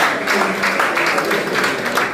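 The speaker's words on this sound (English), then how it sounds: "Did we give Brother Louis a round of applause?" An audience at a training workshop gives a round of applause, with dense, steady clapping filling the moment and a voice faintly beneath it.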